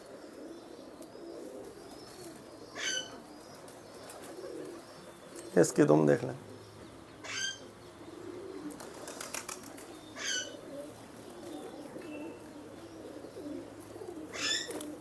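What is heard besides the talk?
pigeons cooing and flapping wings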